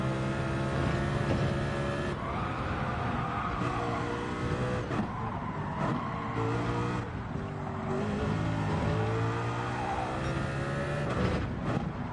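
A race car accelerating in Gran Turismo 7: a loud, continuous engine whine that climbs in pitch through the gears, with brief dips at the shifts and a faint tire squeal. It runs throughout with no talking.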